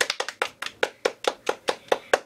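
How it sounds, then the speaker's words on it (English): Steady handclaps from a small group applauding a young gymnast after a back tuck in a gym, about a dozen sharp even claps close by, no voices. "Let's all get a round of applause for Fia."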